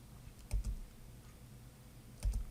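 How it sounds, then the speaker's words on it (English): Quiet taps on a computer keyboard while building a Scratch game project: two short clusters of soft clicks, well apart, against a faint steady room hum with no speech. "I click on the keyboard now."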